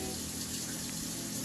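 Tap water pours steadily into a cooking pot for stovetop brown rice, a loud continuous broadband gush with no pauses.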